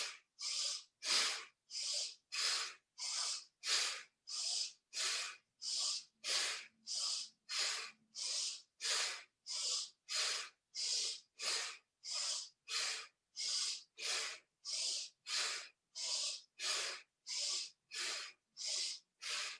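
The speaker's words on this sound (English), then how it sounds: "breathe in the left, breathe out the right." Rhythmic, forceful nasal breaths repeat steadily during a yoga breathing exercise, close and clear, with about 28 even sniffing pulses and short gaps between them and no talking.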